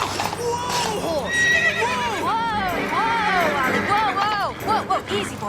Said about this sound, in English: Whoa, horse!